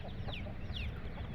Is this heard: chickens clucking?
yes